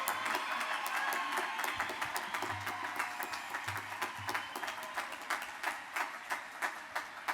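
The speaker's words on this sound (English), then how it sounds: "One more round of applause, please, for our most impressive graduates in the class of" Sustained applause from a large commencement crowd honoring Elizabethtown College's class of 2024 graduates, dense clapping with scattered cheers across the whole stretch, steady and fairly distant, gradually thinning toward the end.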